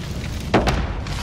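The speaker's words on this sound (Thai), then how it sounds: "อุ้ยระเบิด" A single grenade blast goes off in the Call of Duty: Modern Warfare video game: a short, muffled boom with a thud that rises briefly over the game's steady background noise.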